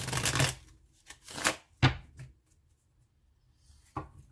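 Tarot cards are shuffled in a few short riffling bursts with soft slaps between, close and fairly quiet, and no talking.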